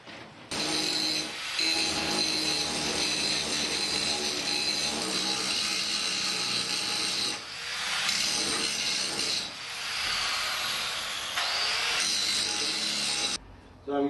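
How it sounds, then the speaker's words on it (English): A grinder works steadily along the profile of a spring steel cutlass blade, smoothing out humps and bumps with a continuous loud abrasive hiss that briefly dips and shifts pitch as the pressure changes. "I'm grinding the profile of my blade and taking out those humps and bumps and smoothing it out"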